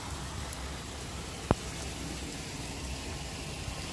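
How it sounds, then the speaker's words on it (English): Steady, dense rainfall hisses without pause, broken once by a single sharp tap, with no voices. "So it's raining real hard."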